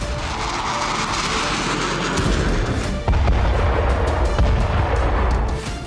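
US air strikes in Yemen, a loud, continuous roar of heavy blasts and rumbling booms with a sharper burst near the middle, dense and sustained without speech.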